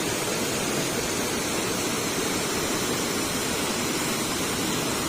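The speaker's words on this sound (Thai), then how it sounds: "น้ำไหลเชี่ยวมาแบบ" Fast-moving flood water rushes over a weir in a loud, continuous roar, steady and dense throughout with no pauses.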